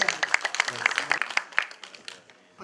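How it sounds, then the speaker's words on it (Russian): Audience at a school comedy contest claps briefly, a short run of distinct, fairly sparse hand claps that quickly dies away, with a voice heard under the applause. "Ну как-то так, аплодисменты."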